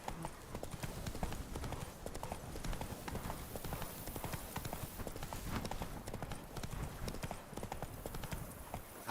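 Horse hooves clip-clopping at a gallop in The Witcher 3: Blood and Wine, rapid rhythmic thuds on the ground, close and fairly loud, with faint ambient game sound beneath.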